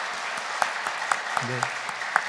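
Scattered clapping from a church congregation during a Sunday afternoon service, light and steady, with a voice saying a short word over it.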